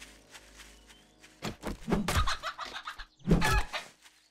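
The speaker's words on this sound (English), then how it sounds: "There's a chicken." A chicken in the 7 Days to Die video game clucks in several short bursts with pauses between, close and clear, mixed with a few soft game thumps and steps, and no talk.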